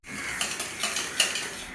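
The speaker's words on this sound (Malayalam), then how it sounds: "ഫ്രഷ് ക്രീമൊക്കെ ഒരു പാത്രത്തിലോട്ട് ഒഴിച്ച് അതിലേക്ക് വാനില എസൻസും ഒക്കെ ആഡ് ചെയ്ത് മിക്സ് ചെയ്യാൻ തുടങ്ങി" A utensil briskly stirs fresh cream and vanilla essence in a bowl set over a bowl of ice, making quick close scraping clinks and a soft wet swish in a short burst.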